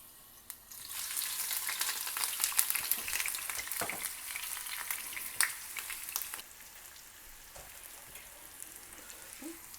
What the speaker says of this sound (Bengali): তেল গরম হয়েছে, পেঁয়াজগুলি দিয়ে দেবো।